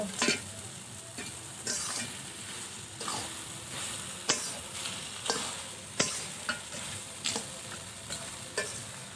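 Fried bhetki fish bones are stirred into cabbage with brinjal and carrot in a pan, making a soft sizzle under repeated scraping and clinking spatula strokes at an irregular rhythm, close and fairly quiet, with no talking.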